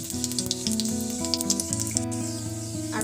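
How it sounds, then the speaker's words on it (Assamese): Fenugreek seeds and cumin splutter and sizzle in hot oil, a steady close crackle of tiny pops over a background with tonal music-like lines and no talking. "মিঠি গুটিখিনি ফুটিবলৈ আৰম্ভ কৰিছে।"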